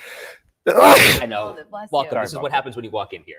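One loud, sharp sneeze bursts out in a studio setting, followed right away by people talking close by.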